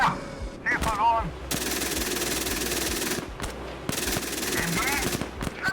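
Machine gun fire from a Marder A1 infantry fighting vehicle in a video game: long sustained bursts with brief pauses, loud and close, with radio-style voice callouts between bursts.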